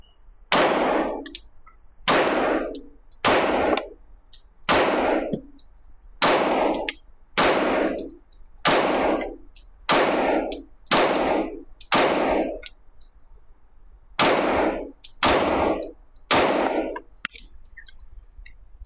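A Ruger LC Carbine in .45 ACP fires eleven loud, sharp shots at an outdoor range, roughly one to two seconds apart with a brief pause before the last three, each crack trailing off in a short echo.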